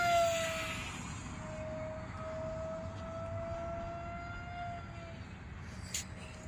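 RC V-tail speed plane at full throttle gives a steady high-pitched motor whine, loudest at the start as it passes close, then holding a sustained drone as it flies farther off.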